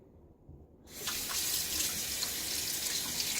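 Water from a running tap splashes steadily as a Gillette Sheraton safety razor is rinsed, starting after a brief quiet moment and then flowing continuously and close by, with no voices.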